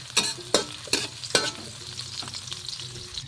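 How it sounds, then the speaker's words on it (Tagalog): Cooked rice is stir-fried in a hot pan with a steady sizzle, broken by several sharp scraping strokes of a spatula in an irregular rhythm, heard close up with no talking. "Mga kapangit, magsangag tayo."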